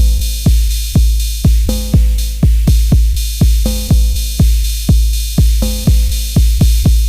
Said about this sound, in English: Basically what you hear is a kick drum, a snare, and then I think it's the open hi-hat with the decay almost all the way open.